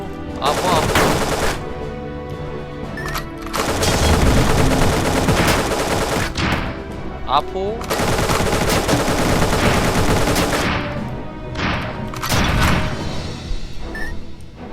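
AK rifle and minigun fire in the 2D action game Dungreed, loud and nearly nonstop: rapid rattling bursts with brief pauses and a few sharper individual cracks, layered over game music.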